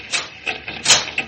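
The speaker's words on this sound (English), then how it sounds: "Do you think the printing press will work" An old printing press clattering as it runs, a short burst of rough mechanical rattles and thumps with a few sharper knocks, close and fairly loud.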